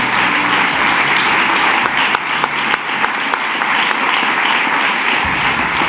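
An award ceremony audience gives sustained loud applause, dense clapping from a large crowd that continues without a break throughout.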